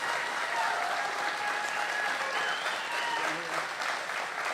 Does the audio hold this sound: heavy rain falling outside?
no